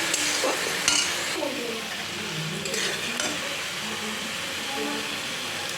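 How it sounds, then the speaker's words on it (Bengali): Spice masala cooking down with a splash of water for fish curry, a continuous bubbling sizzle with a few scraping stirs near the start, steady and close. "একটু ভালো করে আরও কষিয়ে নিই"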